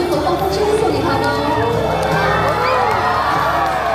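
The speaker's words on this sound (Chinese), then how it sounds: "这个时候，我们一定要把最热烈的掌声和欢呼声送给他们。" An audience at an amusement park cheers and shouts after a mermaid show, a dense crowd roar of whoops and children's cries mixed with chatter, loud and sustained.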